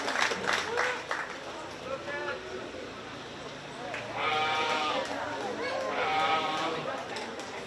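Sheep bleat repeatedly at a 4-H county fair sheep and goat show, several clear calls rising over crowd noise and an announcer's voice in a large show barn.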